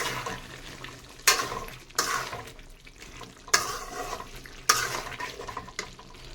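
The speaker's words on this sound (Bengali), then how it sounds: "আর একটু ভালো করে কষিয়ে নেব।" A thick chicken curry is sautéed and stirred in a pan, with a low simmering sizzle broken by regular scraping strokes of a spatula about once a second, close up and with no talk.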